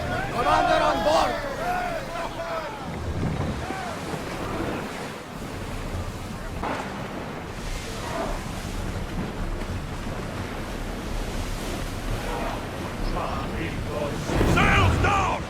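A sailing ship in the video game Assassin's Creed Odyssey cuts through ocean waves, with continuous surf wash and gusting wind rumble under shouted crew voices and talk.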